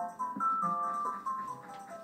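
A song plays in the video game Ocarina of Time, a short, quiet, bright melodic phrase of a few sustained notes.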